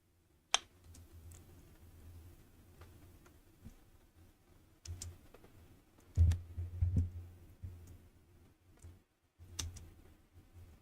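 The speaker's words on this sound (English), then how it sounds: "I'm over here typing with one finger." Slow one-finger typing on a computer keyboard, isolated soft clicks spaced irregularly with pauses between, close and quiet, with faint low hum in the background.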